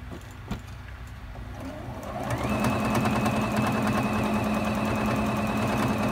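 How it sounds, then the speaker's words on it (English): A domestic sewing machine running steadily for free motion quilting, its needle motor building to a constant, fast mechanical whir with a rhythmic stitching clatter, close and alone. "I do hear the needle going clunk and clunk when you're going over seams"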